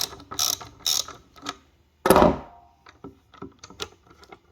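Ratchet on a P2R J Series valve cover spark plug tube seal installation tool clicks as it is loosened, a close, dry series of sharp mechanical clicks with one louder burst midway and quieter ticks after.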